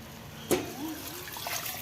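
Water splashes and pours into a pot of sautéed biryani ingredients in a brief burst, then continues as a soft trickle against a quiet kitchen background.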